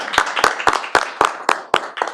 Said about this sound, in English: let's give those kids a round of applause too